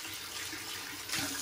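A bathroom tap runs steadily as water rinses the top of a shaving soap during a wet shave, a continuous close splashing hiss that swells a little louder near the end.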